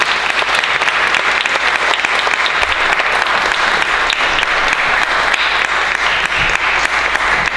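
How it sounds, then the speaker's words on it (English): An audience applauds a women's panel at a 2018 conference, loud dense clapping sustained evenly from start to finish with no speech over it. "Round of applause."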